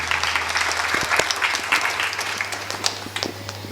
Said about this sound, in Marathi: एकदा त्यांच्या सगळ्यांच्या नावाने जोरदार खणखणे टाळी वाजवा.